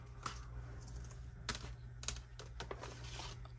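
Laminator feeding a sheet of self-adhesive sticker laminate through its rollers, with a steady low motor hum and scattered light clicking and rattling throughout.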